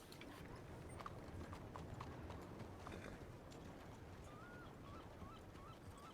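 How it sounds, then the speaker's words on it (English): Hooves of a piebald horse clip-clopping during police deputy training, a steady, fairly quiet walking rhythm that carries on throughout, with faint chirpy sounds in the background. "It really is a pretty horse."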